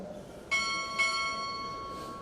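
A ship's bell struck twice at a Navy chief petty officer pinning ceremony: two bright, ringing strikes about half a second apart, the tones lingering and fading over a quiet room.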